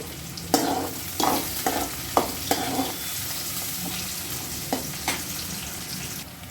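Shallots and green chillies frying in oil for a mutton gravy give a continuous sizzle, punctuated by a series of sharp spatula scrapes and knocks against the pan, several in quick succession early on and a couple more later.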